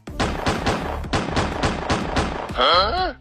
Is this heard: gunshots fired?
yes